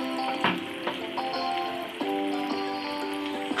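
Garnish frying until crisp in a pan of hot oil for a porgy fish dish, giving a steady close sizzle with small crackles and pops throughout.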